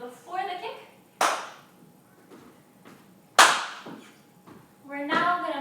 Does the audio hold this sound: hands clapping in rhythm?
yes